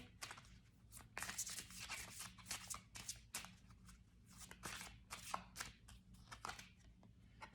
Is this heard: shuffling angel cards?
yes